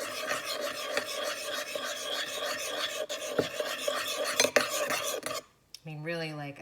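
Eggs for homemade ice cream being beaten in a bowl, a steady scraping, clinking whisk rhythm close up for about five seconds before it stops and a voice begins.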